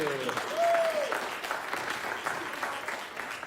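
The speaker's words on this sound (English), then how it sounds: "All right, so give them a round of applause." Applause for cafeteria workers at an awards chapel, a steady wash of clapping from a crowd lasting the whole stretch, with a brief tonal whistle near the start.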